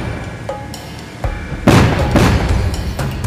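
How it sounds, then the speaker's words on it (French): Police dispersion grenades going off during gang unrest in Cape Town: a few sharp reports, then a loud close blast and a rumbling, crackling roar that carries on to the end. "la police intervient et lance des grenades de dispersion"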